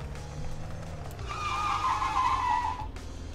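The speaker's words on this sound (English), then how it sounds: "Maybe you shouldn't be skidding on grass" A car in the video game Unturned skids on grass, with a loud tire squeal rising over the steady engine drone for about a second and a half, then fading as the engine carries on.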